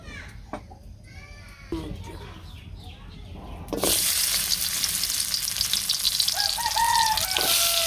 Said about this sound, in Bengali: আমরা পটল ভাজা নিয়ে তেল দিয়ে দিলাম